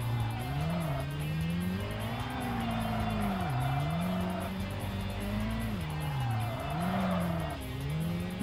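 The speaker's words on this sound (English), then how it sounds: "this is a drift battle" Cars in a drift battle in Tokyo Xtreme Racer: Drift 2 rev and wail in long, swooping engine notes that rise and fall, with tire squeal underneath, continuous and loud throughout.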